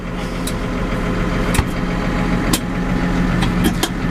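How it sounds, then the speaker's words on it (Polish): A New Holland tractor with an Electro Command transmission runs at idle: a steady, loud, close diesel rumble with a constant low drone and occasional faint clicks, no voices. "Uruchomimy sobie silnik. Ciągnik jest już uruchomiony."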